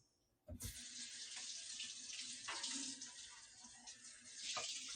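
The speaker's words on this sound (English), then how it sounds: "I'm gonna put this in the sink and drain it. We're gonna rinse them too." A kitchen sink tap runs steadily as soup ingredients are rinsed and drained in a colander, a constant rushing splash with brief clatters from handling.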